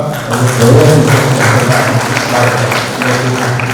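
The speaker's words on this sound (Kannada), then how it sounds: "ಅವೆಲ್ಲ ಜೋರು ಚಪ್ಪಾಳೆ ತಗೊಳ್ಳೋದಕ್ಕಂತ" A brief burst of loud, close applause from an audience at a job fair event in Hassan, dense clapping for a few seconds with a low hum beneath.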